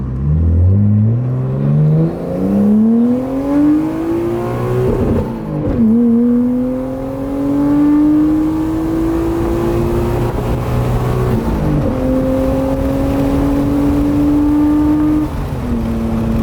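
A JDM car accelerating hard from the driver's seat, pulling in third gear with its once-dragging brake calipers now freed. The engine note climbs steadily and loudly, broken by two gear shifts, with no talking.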